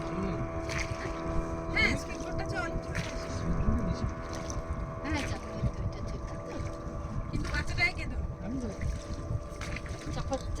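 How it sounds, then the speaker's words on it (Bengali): A speedboat passes on the lake at Maithon Dam, its engine a fairly faint, steady drone from a distance, with wind noise and people chatting nearby throughout. "ওই তো স্পিড বোট যাচ্ছে কোথায়?"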